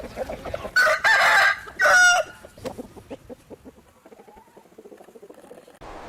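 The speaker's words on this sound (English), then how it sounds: "Chicken." A rooster crows loudly and close in a long two-part call, followed by softer clucking and scattered fowl noises.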